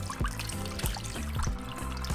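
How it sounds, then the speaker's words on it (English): Water trickles and splashes steadily into a roasting pan holding flans, a continuous close pouring sound with small gurgles. "Now we're just going to fill up our roasting pan with some water and just do it halfway."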